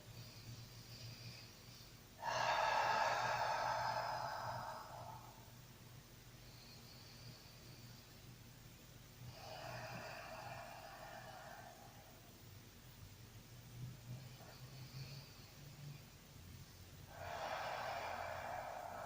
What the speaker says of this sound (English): Taking a few breaths here.